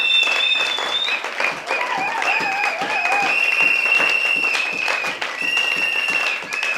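A church congregation clapping loudly and continuously in praise, a dense, close wash of applause with shouts and high ringing tones over it.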